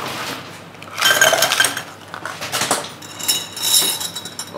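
A bar spoon stirs a breakfast milk punch cocktail down in a glass, making bursts of light clinking and rattling, close and moderately loud, with no speech.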